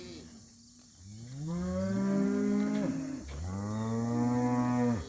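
A cow on pasture during early fall grazing lets out two long, loud moos close by, one after the other with a brief gap between them.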